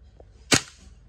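A single sharp crack from a WE M4 CQB gas blowback airsoft rifle fired on semi-auto with 0.2 gram BBs, one close, loud report that quickly decays.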